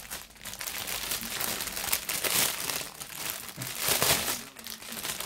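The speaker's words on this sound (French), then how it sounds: "Je suis sadique avec le bruit des papiers." Close, continuous paper crinkling and rustling as a package is unwrapped, with louder bursts of crackle every second or two and no voices.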